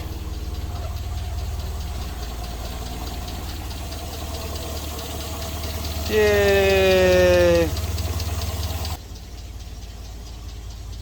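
A Ford Falcon engine idles steadily with a low, even rumble throughout, while a brief whistling tone rises over it partway through and a voice cheers once.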